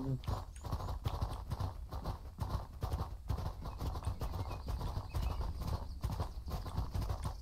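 Horse hooves clip-clop steadily on a road in the online game Mortal Online 2, a continuous rhythmic trot heard close and fairly loud, with people talking over the hoofbeats.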